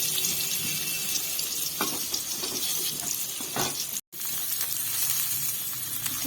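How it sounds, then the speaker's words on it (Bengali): Boiled potatoes frying in leftover fish-frying oil, a steady close hiss and sizzle throughout with occasional soft crackles and a brief dropout near the middle. "এবারে মাছ ভাজার তেলে আলুগুলোকে ভেজে তুলে রাখবো।"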